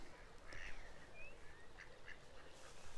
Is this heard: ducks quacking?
yes